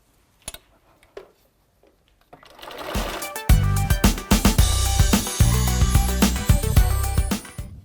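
A few soft taps, then a sewing machine starts up and runs at a fast, steady chatter, stitching the last seam of a quilt close to the listener with brief slowdowns between bursts.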